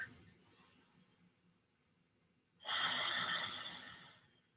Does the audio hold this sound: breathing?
yes